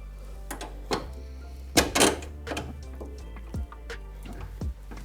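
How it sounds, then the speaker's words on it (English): A jack cranking up the wheel hub of an NA Miata during a coilover install: a series of irregular metallic clicks and ratcheting clacks over a low hum, close by, with no speech. "So we're going to jack up the hub to make it easier."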